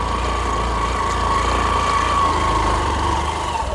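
A motorcycle engine drones steadily and loudly while riding on a rough rural dirt road through a remote village area, with a continuous close hum and vibration and no talk.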